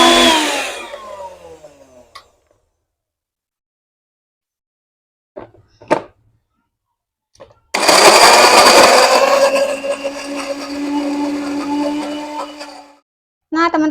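Blender grinding spice paste for pepes fish, loud bursts of whirring motor with short pauses between runs, the longest burst running steadily for several seconds before cutting off.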